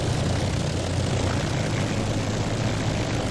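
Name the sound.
propeller aircraft engine in IL-2 flight simulator video game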